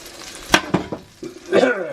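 Egg and bacon fry in a pan for a breakfast quesadilla, with a sizzling hiss broken by a few sharp clinks and scrapes of a utensil against the pan.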